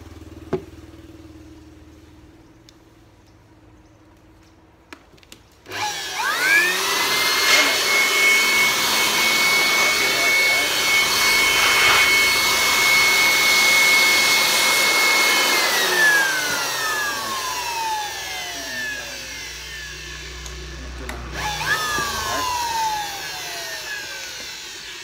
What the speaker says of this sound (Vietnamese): Với một cây thổi. Cây thổi này cây thổi Ruby ha. Cây này điện 100V.